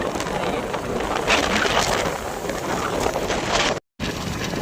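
Strong wind roars steadily across an outdoor microphone as a loud, continuous broadband rush with slight gusting swells, cut by a brief dropout near the end.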